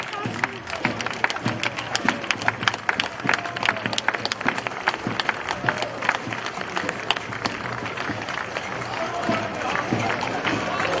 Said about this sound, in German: Einen besonderen Applaus für den Herrn von Kammerau mit seinem Gefolge.